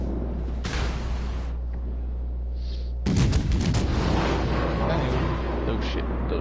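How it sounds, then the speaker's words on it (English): Battleship main guns fire shells in the naval game World of Warships Legends, with a deep booming salvo that erupts sharply partway through and rumbles on loudly, over a low steady engine drone. "Those shells are gonna eat through him."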